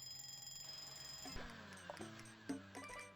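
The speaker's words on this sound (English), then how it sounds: "All the alarms all at once." Ringing alarm tones and electronic beeps pile up in a casual video game, quiet but layered, with sharp repeated chimes sounding over a steady tonal drone.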